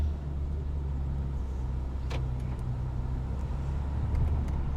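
Inside a Nissan Pathfinder with a damaged CVT pulling away in first gear, the engine and drivetrain rumble low and steadily with a faint uneven shudder and a few light clicks.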